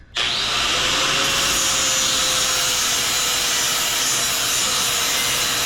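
A power grinder works the corners and sides of a bar for a kayak car tie-down, starting abruptly and then running as a loud, continuous, close abrasive whine without pause.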